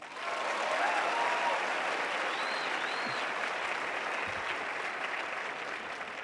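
An audience in a lecture hall breaks into a round of applause, dense steady clapping from many people that holds loud for several seconds before easing slightly.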